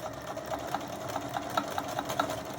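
A sewing machine runs steadily with a quick, regular mechanical clatter, fairly quiet and continuous with no voices.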